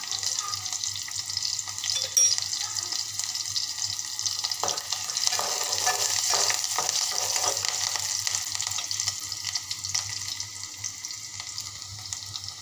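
Onions softening in a hot pan give off a steady bright hiss and sizzle with faint scraping and stirring, a low hum beneath. The sound is close and continuous, with no talk over it.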